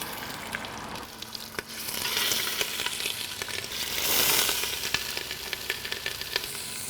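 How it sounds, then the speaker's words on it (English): Turkey pieces sear in a little hot oil in a stock pot, giving a close, steady sizzle that swells and crackles with scattered pops as pieces go in. "I'm gonna put down just a little bit of oil, and then we're gonna get these pieces in here to begin to sear."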